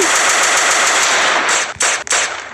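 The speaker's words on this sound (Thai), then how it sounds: "นี่ปืนกลครับมันเป็นปืนกลครับ" Machine gun firing in the Roblox game, a dense continuous burst of rapid shots, loud and close, breaking off in two brief gaps near the end.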